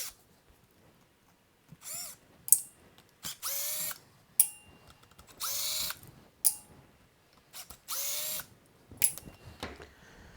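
A power driver backs out four T25 screws from the handle of a MaxShine M21 Pro long-throw polisher, a quiet series of short high-pitched whirring bursts separated by pauses, with small clicks and handling noises between them.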